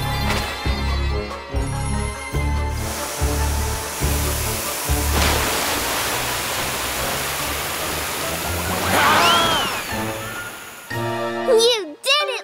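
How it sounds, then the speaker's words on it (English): A cartoon water cannon sprays in a broad, rushing hiss that swells and lingers for several seconds amid pulsing music and sound effects, with a child-like character voice at times. "I'll get you with the water cannon."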